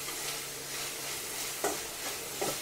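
Onions sizzle in a pan for mutton biryani, giving a steady close frying hiss with a couple of brief stirring scrapes.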